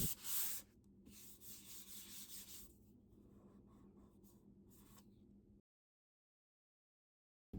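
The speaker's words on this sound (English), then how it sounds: "And then I completed the sanding by hand." Steady rubbing and scraping of hand sanding on a water-damaged particle board dresser, close and continuous for several seconds, then abrupt silence.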